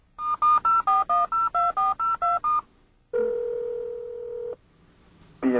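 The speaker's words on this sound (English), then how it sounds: "The integrated cellular phone will automatically call the BMW Emergency Call Roadside" A BMW E38 7 Series integrated cellular phone placing an emergency call: a quick run of eleven clear keypad dialing tones, a pause, a long steady ringback-like tone, then a brief tone starting again.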